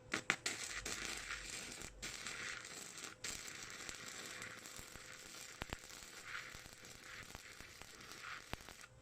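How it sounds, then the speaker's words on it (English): Flux-core welding with a Harbor Freight Titanium 125 welder on ungreased metal gives a steady, close crackling sizzle, dense with sharp pops and brief breaks between beads. "We'll do one set of welds with no grease, another set of welds with some grease on camera just to show you guys."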